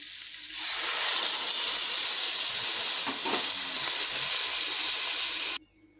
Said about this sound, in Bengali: আর এবারে এই জল দিয়ে দিলাম